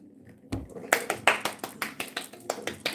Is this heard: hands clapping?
yes